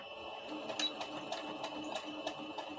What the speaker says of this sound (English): So I'm just going to back stitch.